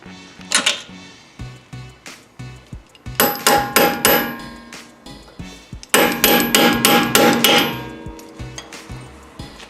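A hammer strikes metal while a Mazda Miata is being fixed, with a run of rapid ringing clangs in two loud bursts between slower, duller knocks, close by with no talking.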